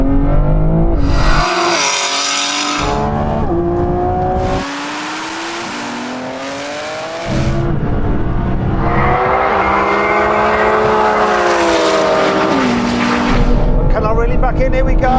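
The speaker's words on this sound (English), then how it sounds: "roll race. We're going to do it third gear from about 50." Several cars accelerate hard side by side in a third-gear roll race from about 50, engines roaring loudly with rising revs and gear changes; the roar briefly dips midway, and voices talk over the engines.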